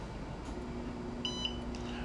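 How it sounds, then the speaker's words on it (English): Two short, faint electronic beeps in quick succession over a low background hum. "Turn the machine on, it will beep."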